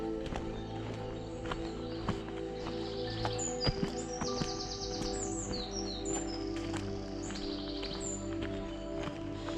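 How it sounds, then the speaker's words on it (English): Small birds chirp and sing in short, fairly distant bursts through a spring forest at Summerset Forest, Coleraine, County Londonderry, in late March, over a constant low outdoor hum and the soft tread of footsteps on the path. "This will be the most bird song I've heard this spring."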